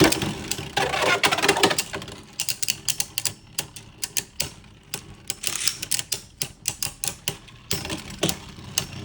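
Beyblade spinning tops clashing in a plastic stadium dish, a dense run of sharp, rapid clicking impacts with a steady whirring underneath, then a quicker series of distinct close knocks.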